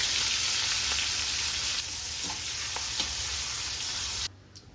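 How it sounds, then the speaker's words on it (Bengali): Whole spices temper in hot oil left over from frying fish, giving a dense, close sizzle with occasional stirring clicks. The sound cuts off abruptly near the end. "ওই তেলেই ফোড়ন দেব। এই যে ফোড়নগুলো দিয়ে দেব।"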